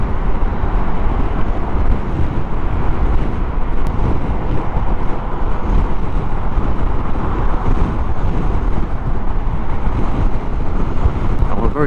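Small powered two-wheeler, a SuperClip commuter, accelerating hard at full throttle, a steady dense engine drone under heavy wind buffeting that holds loud throughout.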